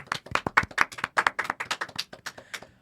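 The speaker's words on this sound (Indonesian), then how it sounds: "Kita beri aplaus dulu pada Mas Ilham" Applause from an audience at a campus tech community talk show, a dense run of many hands clapping steadily for about three seconds with no talking over it.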